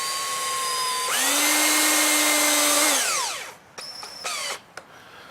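A cordless power drill drives screws into timber for a raised garden bed, whining loudly for a couple of seconds, then slowing to a stop, followed by a few short bursts of the motor.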